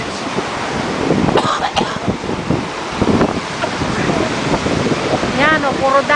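Big ocean waves roll and crash at Aparri at the northern tip of the Philippines, a loud, churning surf mixed with heavy wind buffeting the microphone, while voices and a faint whistling tone come through briefly near the end.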